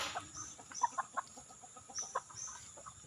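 Young mestizo chickens and roosters, about four to five months old, cluck and call in a farmyard, with several short, scattered clucks and squawks at moderate distance.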